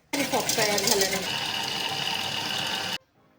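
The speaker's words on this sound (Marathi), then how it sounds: "मिक्सरला हे पाणी आणि केक जे फिरवून घ्यायचंय" Stand mixer whirring steadily as it beats water into cake premix and cake concentrate for a chocolate cake, a loud continuous motor drone for about three seconds that cuts off abruptly, with no talking.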